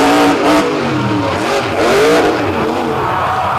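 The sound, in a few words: monster truck engine revving at beach show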